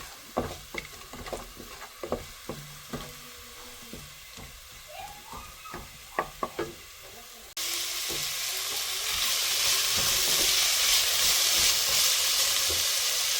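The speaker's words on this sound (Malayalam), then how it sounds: "നല്ലവണ്ണം ചൂടായ എണ്ണയിലേക്ക് പട്ട ഗ്രാമ്പു ഇഞ്ചി വെളുത്തുള്ളി മുതലായവയൊക്കെ ഇട്ടു നന്നായിട്ട് ഇളക്കി കൊടുക്കാം" Cinnamon, cloves, ginger and garlic frying in hot oil for a chicken curry, stirred with sharp clatters of the spoon against the pan, then a louder, steady sizzle as the pan heats up, no talk.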